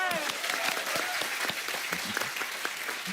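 Studio audience applause on a comedy talk show, a dense burst of clapping with some cheering, fairly loud and steady, with a brief voice or tonal sound faintly at the start.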